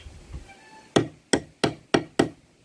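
A hammer taps a nut into a drilled hole while a homemade chapati maker is built from an old ceiling fan, five sharp evenly spaced knocks, close and crisp, with no talk.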